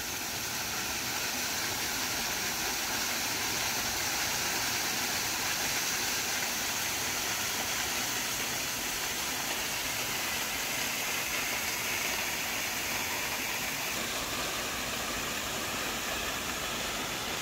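A waterfall at Rock City Gardens on Lookout Mountain, Georgia, roars as a steady, broad wash of rushing water heard from a lookout, continuous and unbroken with no talking.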